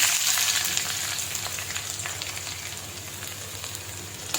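Curry leaves, finely chopped ginger and garlic frying in hot oil, a dense, steady hiss of sizzling that starts loud and eases off slightly, with no voices.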